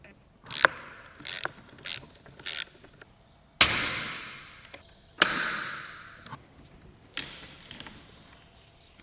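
A ratchet wrench working loose two 8mm bolts under the differential switch on an old farm ATV, with several quick bursts of close metallic clicking followed by longer ringing, fading ratchet strokes.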